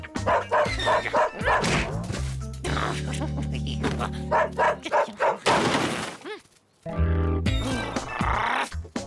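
A cartoon poodle barking loudly in quick bursts and yips, near and prominent, with a brief crash and other cartoon sound effects between the barks.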